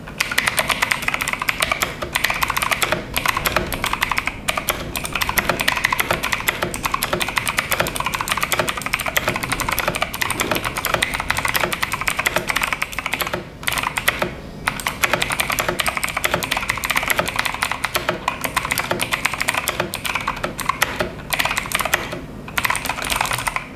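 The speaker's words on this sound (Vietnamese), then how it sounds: "Do con bàn phím này sử dụng Blue của Otemu nên cái tiếng gõ clicky của nó cũng khá là to." Rapid, continuous typing on an FMOUSE K904 mechanical keyboard with Otemu Blue clicky switches, loud, sharp clacks tumbling in a steady stream close to the microphone for the whole stretch, with no speech.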